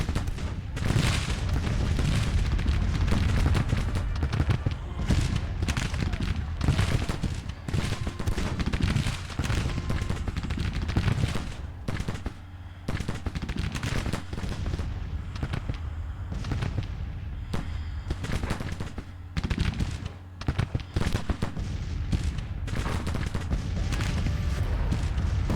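Dense, continuous gunfire from a large battle in the strategy game Grand Tactician, massed musket volleys and cannon booms rolling and overlapping loudly for the whole stretch with no voices.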